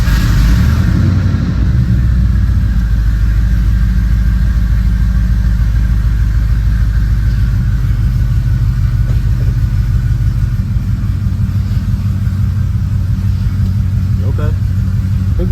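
A truck with a swapped LS engine runs steadily in a shop as it is backed out, a loud continuous low rumble with a slight rise in revs near the end.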